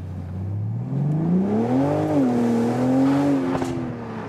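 A BMW Z4 M40i (G29) roadster launches under launch control, its engine note climbing steadily in pitch through a hard, continuous acceleration with a brief shift dip, loud and close from inside the car.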